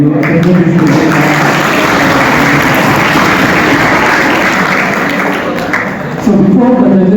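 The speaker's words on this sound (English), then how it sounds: "Now I request all of you to give a big round of applause for yourself" An audience at a debate competition for a foundation course MBBS batch breaks into loud, sustained applause from many hands, a dense continuous wash of clapping that dips slightly near the end before surging again.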